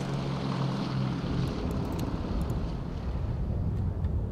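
Planes arriving at an airport in the SimAirport management game make a steady, unbroken aircraft engine drone that stays constant throughout.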